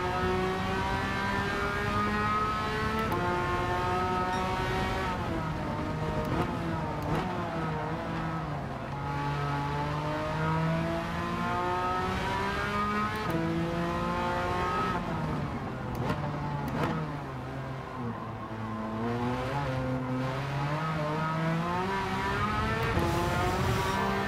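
Engine of an overly fast car racing in Gran Turismo 7, a loud sustained whine whose pitch climbs and drops repeatedly as the driver accelerates and shifts, running continuously with no talk.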